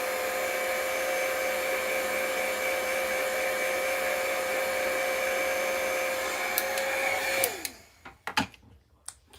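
Hair dryer blowing on wet chalk paint, a steady loud whir that runs for several seconds, then winds down and stops, followed by a few faint knocks.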